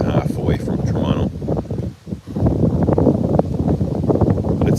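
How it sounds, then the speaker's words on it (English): Strong gusting wind buffets the microphone with a dense roar, briefly dropping out for a moment, while a person talks over it. "Nice and windy, if you like that sort of thing"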